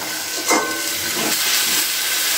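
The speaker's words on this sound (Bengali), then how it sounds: "এবার আমি ভেজে রাখা আলুটাকে এর মধ্যে দিয়ে দিচ্ছি। আলুটাকে দিয়ে বেশ কিছুক্ষণ আবার এটাকে কষিয়ে নেব।" Fried potatoes hiss and sizzle in hot spice paste for a Bengali fish curry, a steady crackle with a couple of louder bursts as they are stirred into the pan.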